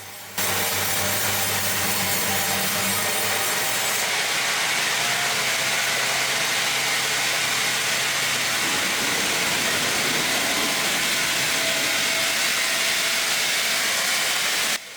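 A Zenz Z 160 S log band saw cuts timber at a yard on the outskirts of Belfast, a loud steady mechanical roar with a dense broadband whine that shifts in tone partway through the cut.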